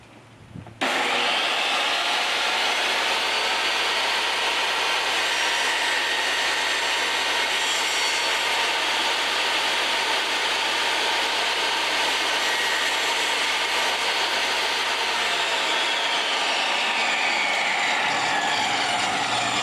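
A power tool cuts into a small block of wood with a loud, continuous high whir that starts abruptly, holds steady for about fifteen seconds, then winds down toward the end.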